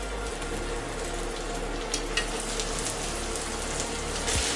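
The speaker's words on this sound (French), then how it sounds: "Comme mon beurre est moussant, je vais y mettre mes endives." Endives frying in foaming butter in a pan give a steady moderate sizzle and bubbling hiss throughout, with a few soft clicks and clatters near the middle, close by and with no talking.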